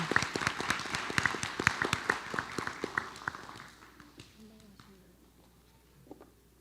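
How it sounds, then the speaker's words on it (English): Applause from an audience at a school board of education meeting, a dense patter of clapping that fades out over several seconds, with voices heard underneath. "Let's give a big round of applause for everyone."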